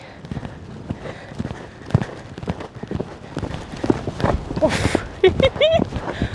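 Horse hooves on a showjumping course, an irregular run of thudding footfalls from a strong mare cantering toward a jump, close and loud, with rider breathing and brief vocal sounds over them.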